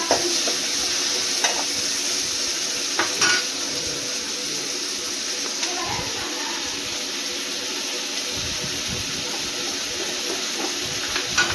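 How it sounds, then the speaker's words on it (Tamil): Tomatoes sautéing in a pan with garlic and onion, a steady close sizzle running throughout with occasional scraping and stirring knocks, and no talking. "தக்காளியை சேர்த்தாச்சு. தக்காளியை வதங்கட்டும்."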